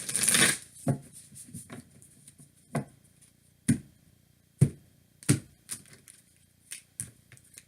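Soft, intermittent riffling and tapping of tarot cards being shuffled, with a brief flurry at the start followed by separate crisp snaps every second or so.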